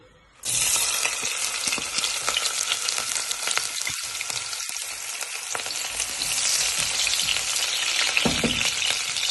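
Hot cooking oil sizzling and crackling loudly in a pan for pasta with sauce, a dense continuous frying hiss close up with scattered pops and stirring scrapes.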